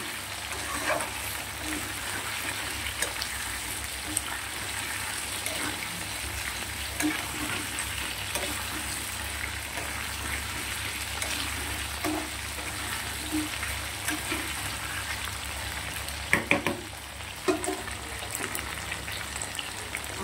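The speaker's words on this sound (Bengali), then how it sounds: "একটু জিরে ফোড়ন দিয়ে একটা আলু বেশ বড় বড় ডুমডুম করে কেটে সাথে একটা টমেটো দিয়ে লাল লাল করে বেশ ভেজে নেবো" Large cubes of potato and a tomato fry with cumin seeds in hot oil, a continuous even sizzle with occasional stirring clicks and a few sharper knocks near the end, no talking.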